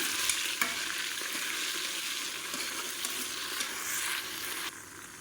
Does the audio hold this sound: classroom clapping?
no